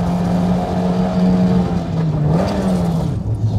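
A Toyota AE86 with a 4AGE engine and six-speed gearbox revs hard on a mountain road, a loud sustained engine drone that dips and climbs through a rev-matched shift near the end.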